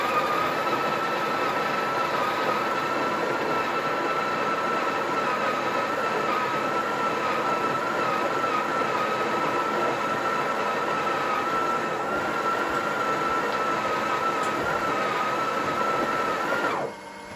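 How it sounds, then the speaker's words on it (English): A Breville Oracle Touch espresso machine grinds coffee beans with a steady, loud, even whir that runs unbroken for about seventeen seconds before cutting off abruptly at the end. "Okay, we'll grind again."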